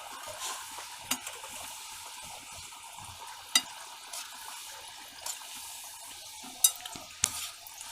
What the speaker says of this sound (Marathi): तर आता हा खाजा आहे ना मी तेलामध्ये सोडते